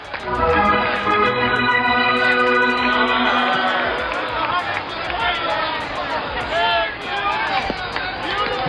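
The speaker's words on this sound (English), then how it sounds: "listen to the roar of the crowd as the Indians take the field" A Cleveland Indians baseball stadium crowd roars as the team takes the field, a loud, swelling wash of cheering and babble with tonal sounds running through it, and a voice talks over it.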